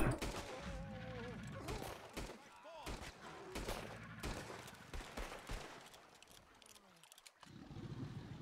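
Bursts of Red Dead Redemption 2 gunfire crackle in quick volleys as a crocodile in a lake is shot, mixed with thuds and other game effects, with voices talking over parts of it.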